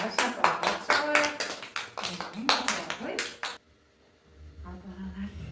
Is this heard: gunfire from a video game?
no